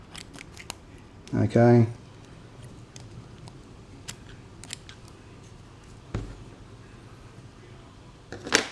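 Scissors trimming cloth for a Bandai 1/12 trooper model figure, giving one close, distinct snip burst amid faint ticks and handling noises, followed by a brief spoken word.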